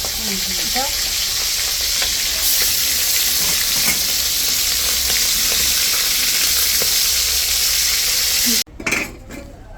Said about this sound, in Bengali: বাদ বাকি মাছগুলো এভাবে ভাজতে নিলাম